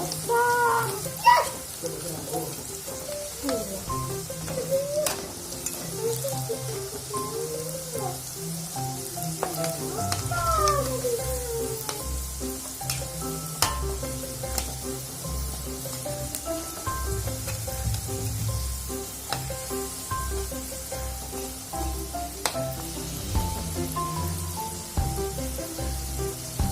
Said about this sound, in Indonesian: jangan lupa diaduk-aduk ya guys